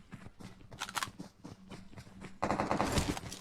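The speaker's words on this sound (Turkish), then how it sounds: "Birilerini vuruyorum." Rapid gunfire in PUBG Mobile, a string of sharp clustered shots followed by a louder, denser burst near the end, heard up close without talk.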